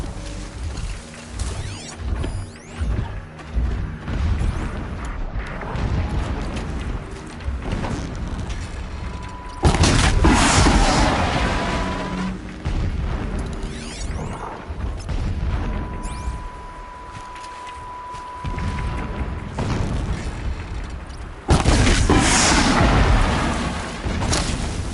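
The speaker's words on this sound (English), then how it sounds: "Explosions in the distance" Distant explosions rumble through a Horizon Zero Dawn battle scene: low booms and heavy thuds roll under steady game ambience, with louder bursts swelling midway and near the end.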